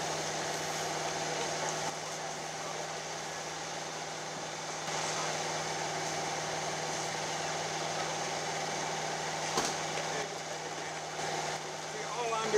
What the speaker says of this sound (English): I'm running that one blower right there. Those are marine bilge blowers.